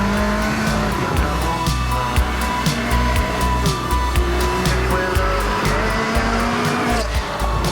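A Ferrari 360 Spider convertible driven hard on a race circuit, its engine loud and close as it revs and changes gear repeatedly, with wind rush and tire noise running throughout.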